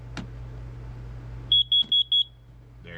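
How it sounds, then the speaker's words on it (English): A carbon monoxide detector being tested gives a quick run of four to five sharp, high electronic beeps, close and loud, over a faint room hum. "make sure that your carbon monoxide detector is working"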